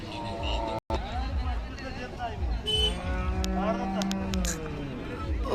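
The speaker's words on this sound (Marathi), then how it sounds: "बैलगाडा क्षेत्रात न पळालेले बैल" Khillar cattle at a busy livestock market in Sangola give several deep, drawn-out moos up close, set against a steady hubbub of crowd chatter.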